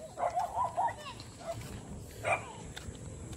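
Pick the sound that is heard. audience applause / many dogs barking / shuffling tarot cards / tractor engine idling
many dogs barking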